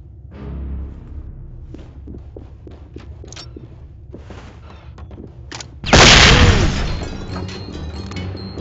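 A flashbang grenade detonates in the SWAT 4 police tactical shooter, a sudden loud blast followed by a ringing, hissing decay, after several seconds of quiet footsteps and small clicks.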